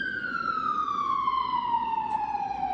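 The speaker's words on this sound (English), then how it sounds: "I'm going to let the ambulance pass." A passing ambulance siren wails loudly and steadily, its single tone gliding slowly downward as the vehicle moves away, over a low rumble of traffic.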